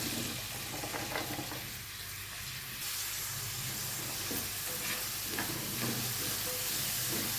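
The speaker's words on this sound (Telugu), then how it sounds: "ఆయిల్ వేడిన తర్వాత ఆనియన్ వేసుకోండి" Sliced onions frying in hot oil for a curry with raw mango and dried fish, giving a steady hiss and sizzle with faint stirring throughout, no talking.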